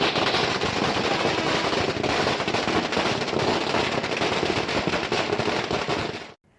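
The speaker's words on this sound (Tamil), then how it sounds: "விஜய் மக்கள் இயக்க நிர்வாகிகள் பட்டாசு வெடித்து மகிழ்ச்சியை வெளிப்படுத்தினர்" Firecrackers burst in a dense, rapid crackling chain at a street celebration outside a house in Panayur, Chennai, continuing loud for several seconds before cutting off abruptly.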